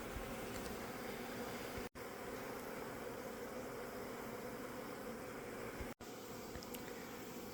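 Honey bees hum around open hives during a late-season mite treatment inspection, a steady, soft, continuous buzzing close by with no voices, broken twice by brief dropouts.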